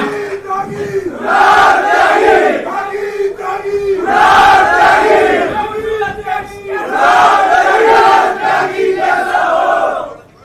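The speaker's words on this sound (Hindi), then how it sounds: "सारे भाई मिलकर इसके लिए ताली बजाएंगे" A crowd at a student tribute event for martyrs cheers and chants in three loud swelling waves, with brief dips in between.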